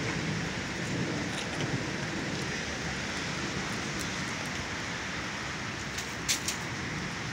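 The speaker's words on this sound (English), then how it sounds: "And there's Duke looking at the hail" A hail storm pounding down outdoors in Colorado makes a steady, dense broadband clatter of ice striking surfaces, holding continuous and fairly loud, with a few brighter, sharper hits near the end.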